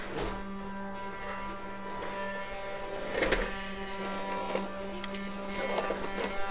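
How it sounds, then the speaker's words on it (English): A vacuum cleaner runs indoors in a house, giving a steady droning motor whine and hum with a few brief bumps and rattles, and no one speaks over it. "Are you vacuuming, buddy?"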